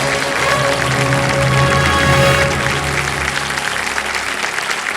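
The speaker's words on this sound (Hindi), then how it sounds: "ताली क्यों बज रही है?" Studio audience applause on a televised quiz show, loud dense clapping filling the whole stretch, with a tonal music bed underneath.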